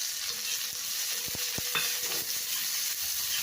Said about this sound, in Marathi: आता आपण कांदा टाकून घेऊया बारीक केलेला.